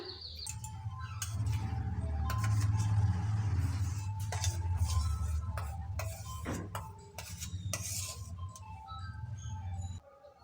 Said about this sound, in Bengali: তাল দুধের সঙ্গে আরো ভালো করে মিশিয়ে নেব